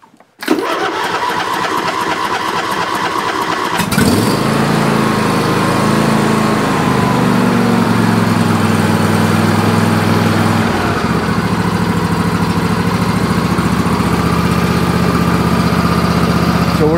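A small engine cranks and catches after a few seconds, then settles into a steady, loud idle as it warms up, with its pitch shifting slightly.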